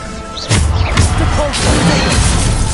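Bombarda spell explosions in Hogwarts Legacy combat, a sharp blast around half a second in followed by repeated thuds and crashes amid busy game noise, loud and close with a voice calling out over it.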